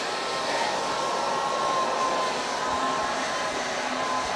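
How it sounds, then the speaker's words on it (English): A blow dryer roars steadily at close range as it heats a fedora hat to reshape it, a constant broadband whoosh with no pauses and no talking. "But the blow dryer is just much better."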